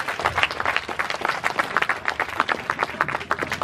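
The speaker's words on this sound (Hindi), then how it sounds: "जोरदार तालियां" Audience applause at a Republic Day dog show, dense continuous clapping from a large crowd, steady and fairly loud with little talk over it.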